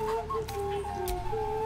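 A chicken clucks in Baldur's Gate 3, several short clucks in an uneven rhythm, close and moderately loud, with a faint tonal hum underneath.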